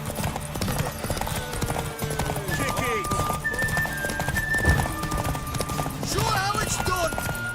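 Horse hooves clip-clop and gallop steadily through a Witcher video game scene, with whinnies and overlapping character voices calling out over the continuous hoofbeats.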